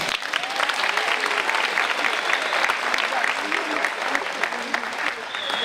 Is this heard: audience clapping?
yes